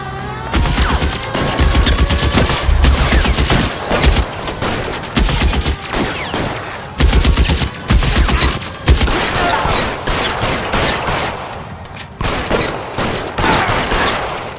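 Sustained bursts of automatic gunfire from a shootout in the video game L.A. Noire, loud and dense with rapid overlapping shots and brief pauses between volleys throughout.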